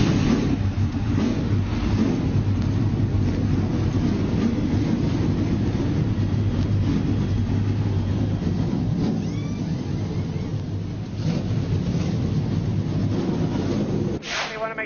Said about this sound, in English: Drivers, start your dadgum engines.